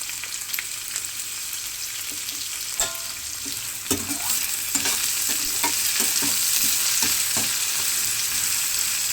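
Ingredients frying in hot oil in a pan for wheat rava upma, a steady sizzle that grows louder partway through, broken by clinks and scrapes of a spatula stirring.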